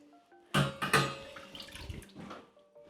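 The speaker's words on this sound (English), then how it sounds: "Once the mud begins to set up on the knife, it can make your finished coat pretty streaky. Give it a little rinse." A plaster mud knife is rinsed in water, giving a brief splashing swish followed by a few softer trickles and drips, close and quiet.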